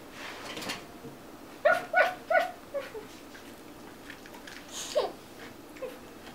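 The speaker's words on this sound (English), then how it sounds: "The puppy is going to be out there waiting for you." A puppy gives a quick run of three or four sharp, high yips, then quieter whimpering and one more short bark, fairly close against a quiet room background.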